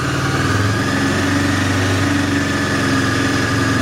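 A Honda CB500 motorcycle engine runs steadily at close range, a continuous loud mechanical drone with a low throbbing beat and no clear rise in revs, heard alone without talk.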